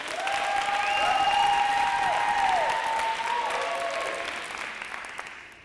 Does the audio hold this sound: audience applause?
yes